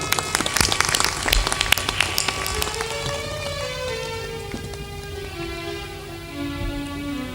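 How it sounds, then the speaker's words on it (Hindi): An audience at a spiritual discourse gathering breaks into loud, dense clapping that thins out over several seconds, while steady sustained tones linger underneath. "जोरदार ताली बजा।"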